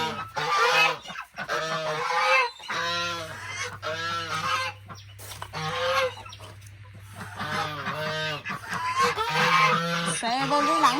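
Loud, repeated honking and quacking from several ducks close by, calls overlapping in bursts with a steady low hum underneath.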